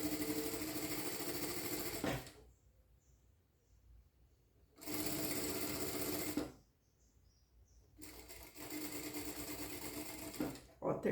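A domestic sewing machine stitches fabric for a bib with bias binding, whirring loudly in steady bursts of about two seconds separated by quiet pauses, close to the listener.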